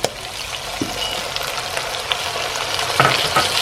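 Sauce hits a hot pan of pork belly and spring onions, bursting into a steady loud sizzle with a few scraping stirs and clatters.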